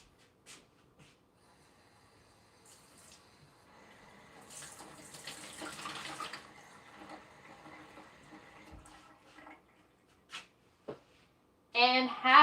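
Lukewarm tap water runs into a container for a recipe, a soft splashing stream for a few seconds mid-clip, followed by scattered clunks and a short louder gush near the end, with talk audible.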